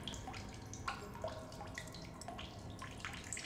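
Water drips and trickles inside an alien cave in The Solus Project, soft scattered droplets plinking at an irregular pace over a quiet wet background, fairly faint and close, with no voices.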